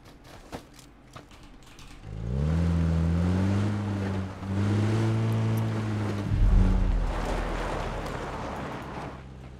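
A car engine in the video game PUBG starts after a quiet moment and drones steadily for several seconds, its pitch shifting as the vehicle drives, with no talking over it.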